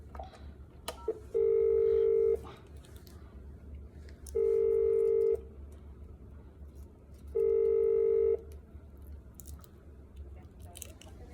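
Hotel suite telephone keypad dialing the operator: three evenly spaced, steady multi-tone beeps about a second long each, clear and close, separated by quiet room background with no talking.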